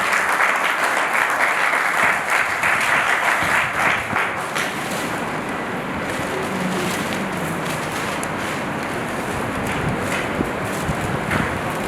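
An audience applauds loudly and continuously at an award ceremony honouring pandemic-era heroes, a dense wash of clapping that settles into a steady, slightly softer patter.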